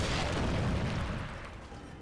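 A burst of destruction in the Darksiders II game as corruption is smashed: a loud, dense rumbling blast that fills the first second, then slowly fades.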